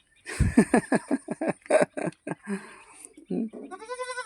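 Goat kids about forty days old bleat close by in a rapid series of short, high cries, one after another, ending in a longer wavering call.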